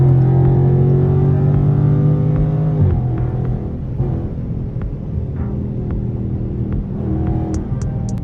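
A Dodge Charger Scat Pack, heard from inside with the windows up, accelerates hard with a loud rising engine drone that drops at a gear shift, then climbs again.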